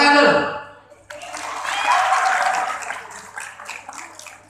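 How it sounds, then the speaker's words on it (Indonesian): Audience applause at a stand-up comedy show for a mathematics student inauguration rises into a broad wash of clapping after someone speaks, then slowly fades out. "Terima kasih untuk yang tepuk tangan."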